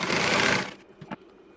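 A sewing machine stitches a sleeve border in one short, fast whirring burst, followed by a couple of faint clicks.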